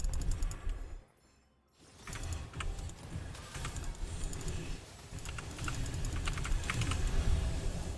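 Steady typing on a computer keyboard, rapid close clicks and taps running continuously after a brief quiet pause near the start, with no speech.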